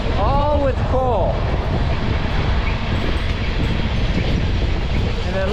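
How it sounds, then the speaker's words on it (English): A long coal train rolls past outdoors with a continuous rumbling roar mixed with wind buffeting, and a few brief chirps near the start and end. "Finally, another train."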